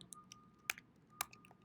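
Close, quiet typing on a computer keyboard: a handful of sharp, irregular key clicks, two of them noticeably louder, with no talking.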